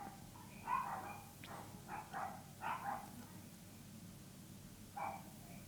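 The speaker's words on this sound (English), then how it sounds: "that dog gets let out and it barks at everything it sees" A neighbour's dog barks outdoors in a few short, separate bursts at moderate distance, with faint background noise between the barks.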